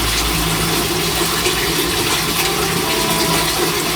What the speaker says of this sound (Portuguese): Soltei agora a vazão toda da água.